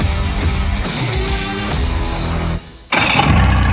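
A boat engine cranks and catches, running with a throbbing mid-pitched rumble, briefly dropping before surging back to a steady loud idle.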